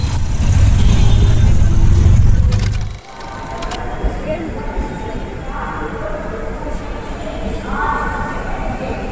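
Heavy city road traffic heard from inside an Uber car: a loud engine and road rumble that drops off sharply, then a softer, busy mix of passing vehicles and distant crowd noise.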